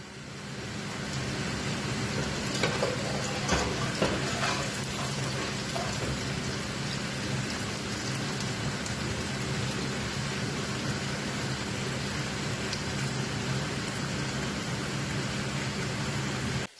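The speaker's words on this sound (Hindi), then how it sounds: "अब प्याज को लाइट गोल्डन करेंगे, उसके लिए 5 से 10 मिनट लगेंगे" Onions frying in a pan with dry cardamom and a tablespoon of cumin, cooking toward light golden for peas pulao: a steady, even sizzle that stays at one level throughout, with a few faint clinks near the start and no voices.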